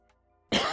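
A single sharp cough bursts out close to the mic after a brief near-silence, loud and abrupt.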